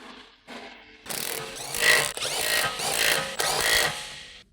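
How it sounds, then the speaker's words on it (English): An impact wrench with a 17mm deep socket tightens wheel lug bolts on a 1999-2007 BMW E46, a close, loud burst of rattling hammering that follows a couple of short mechanical clicks. "Use a 17mm deep socket with the impact wrench to tighten the wheel lug bolts."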